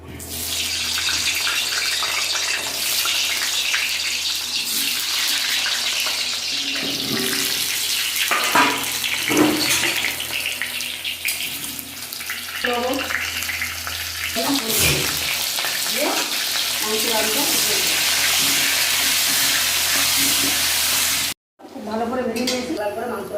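Potatoes frying in hot mustard oil give a steady, loud hiss and sizzle throughout, with occasional stirring clinks and someone speaking intermittently over the cooking.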